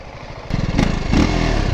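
A TVS Apache 300cc motorcycle engine runs close by, a steady chugging idle that rises into a louder, fuller rev about halfway through and holds there.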